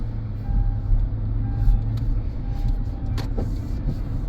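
A 2010 Hyundai Genesis heard from inside the cabin while driving: a steady, close low road-and-engine rumble with a few faint clicks and rattles on top, no voices.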